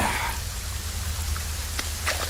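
Heavy rain pours down in a steady, dense hiss, with a few brief clicks and taps rising above the constant downpour.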